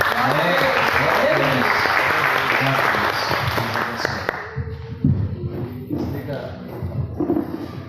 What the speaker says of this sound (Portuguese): Se você gostou, aplauda o Senhor.